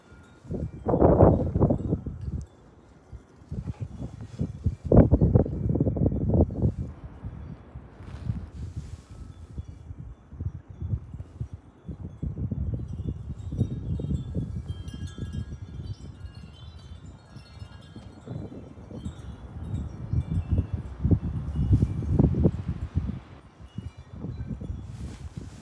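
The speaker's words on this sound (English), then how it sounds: "Oh, widespread gusts." Strong wind gusts of up to 66 mph buffeting a house and trees, surging in loud rushing bursts separated by quieter lulls, blowing across the microphone throughout.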